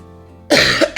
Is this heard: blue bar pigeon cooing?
no